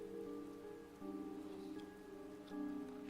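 Steady rain in the game CHAOS;CHILD, falling on an alley. It hisses continuously at low volume under a soft, sustained tonal musical drone, with no voices.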